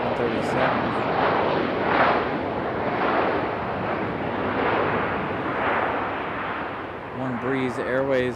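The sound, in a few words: Breeze Airways jet on takeoff roll at Raleigh-Durham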